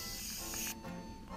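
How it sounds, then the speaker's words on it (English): A steady aerosol hiss from a can of penetrating oil, one continuous burst that cuts off partway, close and fairly loud, with no voices. "I'm just gonna spray this."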